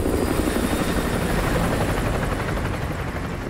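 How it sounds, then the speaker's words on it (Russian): An enemy helicopter patrols overhead in Call of Duty: Modern Warfare 2 Remastered, its rotor drone loud and continuous throughout, fading only slightly at the end, with no talk over it. "Территорию патрулирует вражеская вертушка."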